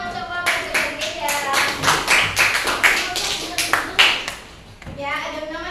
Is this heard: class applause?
yes